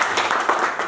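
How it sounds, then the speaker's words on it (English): Pupils in a classroom applaud as a group, a thick steady patter of many hands heard up close, with no voices over it. "Let's clap for the whole group now"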